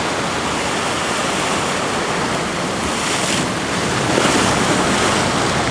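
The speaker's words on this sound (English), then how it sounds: "the waves are just stupendous" Huge ocean waves crashing on Hawaii's North Shore, a loud, continuous roar of surf buffeted by wind noise on the microphone, with a slight surge toward the end.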